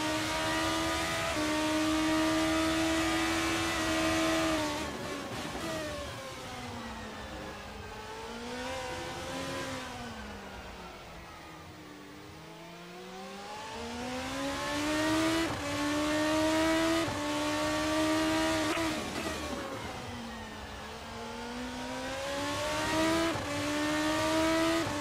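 Race car engine heard from an onboard camera in a sim racing game, a Formula 2 style car at the Singapore Grand Prix circuit, revving loudly with rising and falling pitch through gear changes and a dip as it slows for a corner.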